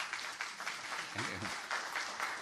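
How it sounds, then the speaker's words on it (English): Scattered applause breaks out in a city council chamber during a meeting, a thin and fairly faint patter of clapping that runs steadily for a couple of seconds, with a brief murmur of voices partway through. "I never get an applause."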